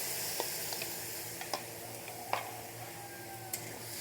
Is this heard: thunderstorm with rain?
no